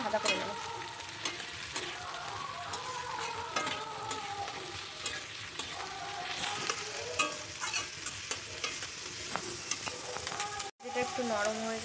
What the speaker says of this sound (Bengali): সমস্ত কিছু ভালো করে নাড়িয়ে ভাজা করে নেবো।